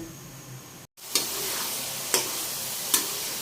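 Steady frying hiss of coconut milk bubbling in a pan, close by, with a few soft clicks or taps standing out from the continuous sizzle.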